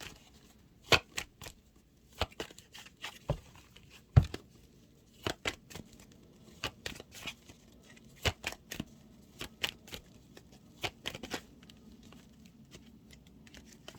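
Tarot cards being shuffled in quick riffling bursts with brief pauses, close and fairly quiet, no voices.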